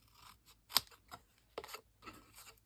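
Scissors lightly trimming the side pieces of a handmade sewing or recipe craft box, a few sparse, quiet snips and rubbing cuts with one sharper close clip and gaps of near silence between them.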